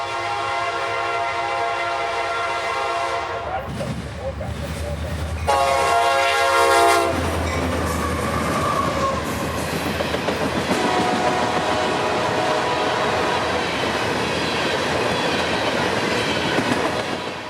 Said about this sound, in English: the train would speed around the corner and into view, now at track speed